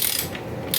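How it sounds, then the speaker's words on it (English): A torque wrench ratchets as it snugs down a rear end bolt on a barn-find Yamaha Virago motorcycle, giving a brief, close burst of clicking with no voices. "I set my torque wrench to 74. So we're going to snug this down"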